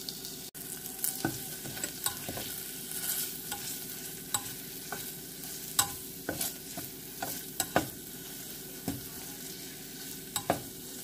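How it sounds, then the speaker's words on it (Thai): Rhythmic scraping and stirring of curry paste with pounded fingerroot in a hot pan over a steady sizzle, with sharp utensil knocks recurring every second or so. "ใส่กระชายที่โขลกแล้วลงไปผัดกับพริกแกงเพื่อให้มีกลิ่นหอม"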